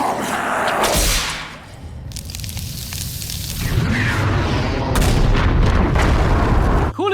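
A loud explosion from the Castlevania animated series booms at the start and rolls into a sustained rumbling roar of blast and debris, with sharp cracks cutting through and heavy low-end noise throughout.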